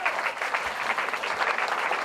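Dense, sustained applause from a live comedy show audience in Denver for comedian Erin, many hands clapping steadily at close range, with no voices over it.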